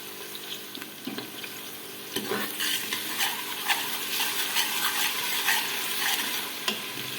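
Onion with ginger garlic paste sizzles in a hot pan for an arbi baingan curry, with a utensil stirring and scraping close up, a busy crackling fry and no voices.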